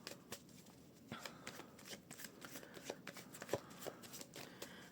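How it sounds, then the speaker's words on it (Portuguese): Tarot cards are shuffled by hand close to the listener, a quiet, irregular run of riffling and tapping with occasional sharper card slaps. "Vamos lá, baralha muito bem."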